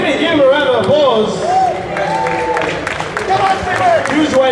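A crowd at a powerlifting squat competition applauds and cheers as a 237.5 kg bar is loaded, with sharp claps mixed with shouting voices and a commentator talking over them.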